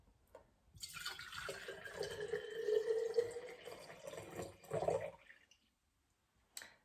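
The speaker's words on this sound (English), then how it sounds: "we are going to fill this about 2/3 of the way with water" Water poured into a large glass jar being filled about two-thirds full, a steady splashing gush for several seconds that stops, with a brief clink at the end.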